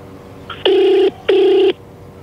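A telephone rings twice, loud and close, each ring a steady electronic trill about half a second long separated by a short pause, with a faint chirp just before the first and quiet room tone around it.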